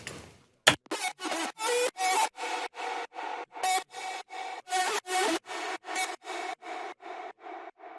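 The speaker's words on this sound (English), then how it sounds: "So the screech is actually the vocal with a lot of EQs and distortion on it." A heavily EQ'd and distorted vocal screech, pitched up, repeating as a rapid series of short, evenly chopped gritty bursts with one sharp click near the start, fairly quiet and without talk.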